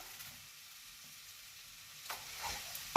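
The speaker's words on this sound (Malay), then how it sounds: "Kita masukkan udang ya. Ini kita kacau rata." Prawns frying in a pot as they are stirred together with spices for prawn biryani, a quiet steady sizzle with a few louder scraping stirs toward the end, no voices.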